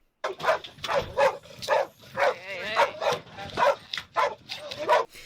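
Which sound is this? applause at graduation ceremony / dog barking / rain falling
dog barking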